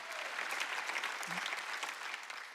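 A church congregation claps continuously during a Sunday worship service in a dense, even burst of applause that holds steady for a couple of seconds.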